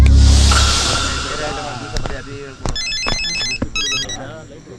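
A mobile phone ringtone plays a quick, bright, repeating electronic melody in short bursts, fairly close, over louder ambient noise and rustling.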